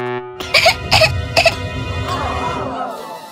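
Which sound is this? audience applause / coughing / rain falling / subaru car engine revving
coughing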